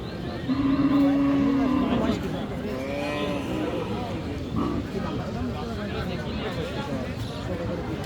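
A cow or calf at a busy cattle market lets out one loud, close, sustained moo. Crowd chatter and people talking continue around it, and fainter animal calls sound through the background noise.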